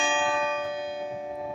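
A church bell tolls once, loud and near, its rich ringing overtones hanging and slowly fading without any other sound.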